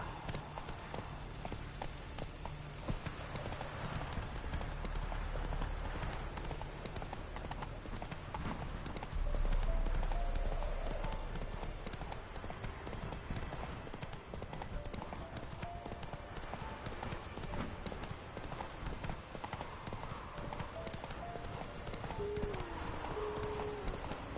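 Horse hooves galloping in The Witcher video game, a fast steady clip-clop close by that runs throughout over a continuous game soundscape.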